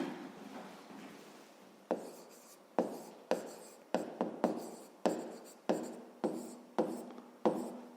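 Chalk or pen strokes write an equation in a series of about a dozen distinct taps and scrapes, each a short sharp onset with a brief trailing rub, fairly quiet and close.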